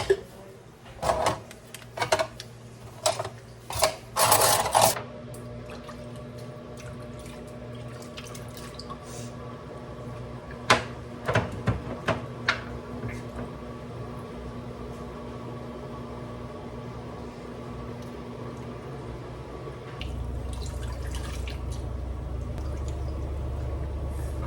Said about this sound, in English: The washer and dryer are going, so ignore that